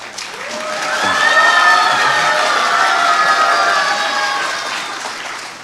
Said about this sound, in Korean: 치려면 화끈하게 쳐주셔야 되고요